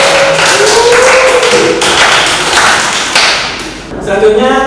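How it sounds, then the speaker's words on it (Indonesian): A classroom audience of students claps during a school lesson, a dense and steady burst of applause lasting several seconds, with a faint tonal voice or hum running underneath. "Beri aplaus tangan dulu."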